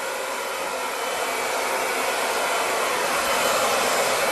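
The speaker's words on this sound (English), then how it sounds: "working with the dryer in the opposite hand, and now start to smooth this out" A hair dryer blows steadily and loudly while hair is smoothed during a bevel bob haircut, a continuous broadband whoosh with no talk over it.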